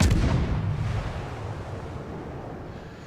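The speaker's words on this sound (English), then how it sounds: "Rounds on the Kirov now. Kirov's firing." Heavy naval gunfire from a Kirov cruiser in the World of Warships video game booms out loud and close at the start, then rumbles away into a long low decay with no talking.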